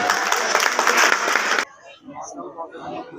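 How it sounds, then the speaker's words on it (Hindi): An audience at a Maharishi Valmiki Jayanti celebration applauds steadily and loudly for about a second and a half, then stops abruptly, leaving faint room noise and a few murmurs. "तालियां बजनी चाहिए।"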